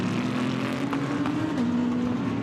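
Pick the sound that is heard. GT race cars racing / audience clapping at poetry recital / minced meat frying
GT race cars racing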